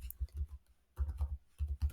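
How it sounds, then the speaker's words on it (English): Typing on a computer keyboard while setting up a web development coding environment, heard as close, crisp bursts of rapid key clicks separated by brief pauses. "I'm going to just be typing everything here"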